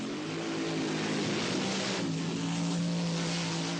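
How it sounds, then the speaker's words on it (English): A dragster engine gives a loud, continuous roar with a steady droning tone before a burnout at Santa Pod Raceway in 1976, heard close and without any voices. "Hayward's car sounds strong, but Froome's worst fears are realised."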